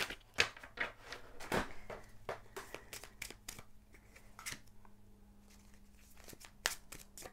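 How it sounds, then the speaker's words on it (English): Tarot decks being shuffled by hand during a card reading, giving a series of crisp riffling and slapping card sounds in uneven bursts, close and fairly quiet, with a steady low hum underneath. "So we're just going to shuffle the other decks"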